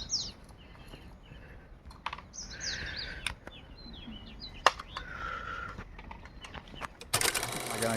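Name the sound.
birds chirping in the hills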